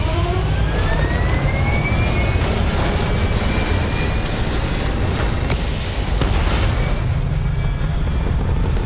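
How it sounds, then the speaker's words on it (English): Spacecraft thrusters firing in Starfield, a dense steady roar with a faint rising whistle on top, loud and continuous before thinning out near the end. "thrusters firing."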